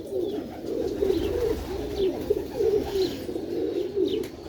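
Sialkoti rocket silver pigeons, an old rooftop breed, coo continuously in soft throaty rolling phrases, a steady low murmur with faint chirps above and no talk.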